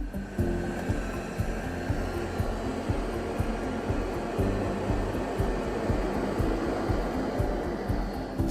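An Ultenic D6s robot vacuum and mop combo with 3000Pa suction runs with a steady, loud motor whine and airflow hum, unbroken for the whole stretch with faint periodic ticks.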